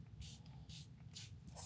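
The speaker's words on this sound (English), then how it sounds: "I think I'm gonna re-wet that with my As I Am spray" Short hissing bursts of As I Am hair spray, four quick spritzes in a steady rhythm, close and fairly quiet.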